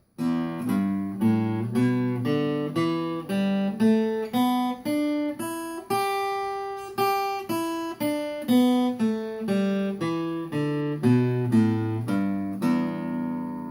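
A guitar plucks single notes of the E pentatonic minor scale one after another at a steady pace, climbing up and then descending, each note ringing clearly.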